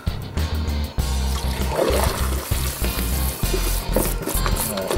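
Yeast being stirred into a stout beer inside a carboy, with loud sloshing and churning liquid, rhythmic swirling surges and gurgles close up.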